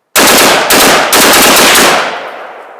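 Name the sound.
AR-15 rifle with Fostech ECHO binary trigger firing erratically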